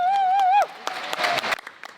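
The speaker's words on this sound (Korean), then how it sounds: "열렬한 성원과 박수 속에 무대는 막을 내렸다" An army military band finishes with a held, wavering tone, followed at once by scattered, uneven clapping from the audience that quickly thins to a few isolated claps.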